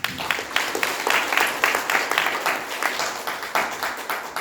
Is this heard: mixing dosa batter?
no